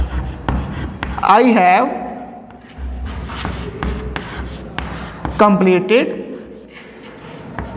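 Marker writing on a board during a lesson, with brief squeaky stroke bursts that rise under the teacher's continuous speech.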